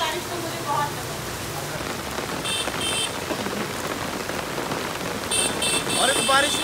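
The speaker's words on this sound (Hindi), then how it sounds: "इतनी तेज बारिश देखने को मिल रही है और ऐसी बारिश तो मुझे बहुत पसंद है।" Heavy rain pours onto a Delhi street in Ashok Vihar, a dense, steady hiss of drops striking surfaces throughout. A few brief tonal sounds cut through the downpour.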